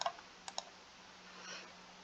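A few sharp, faint computer mouse clicks select a file from the desktop in a quiet room, with one click at the start and a quick pair about half a second later.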